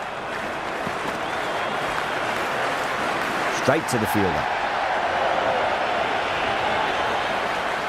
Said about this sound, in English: the excitement emanating from this crowd at the moment